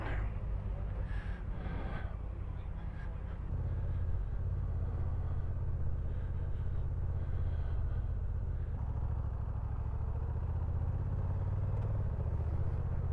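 A motorcycle engine idles steadily on a touring stop in Spain or Portugal, a low continuous rumble with faint background noise and no speech.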